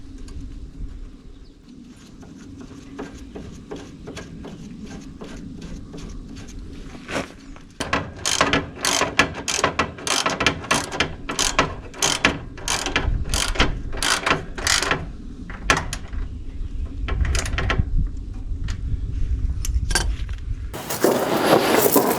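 A ratchet wrench tightening the battery hold-down bolts on a Generac standby generator, fast close clicking bursts in repeated strokes after a quieter stretch, with a clunk near the end and no speech.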